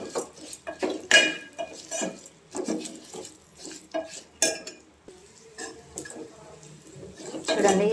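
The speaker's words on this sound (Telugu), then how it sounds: "ఒక 5 మినిట్స్ వరకు మంచిగా పప్పు ఫ్రై అయ్యే వరకు కలుపుతూ ఉండాలండి" A utensil stirs moong dal frying in a pan, producing repeated scraping and clinking strokes in an irregular rhythm, close and fairly loud, with a voice talking intermittently alongside.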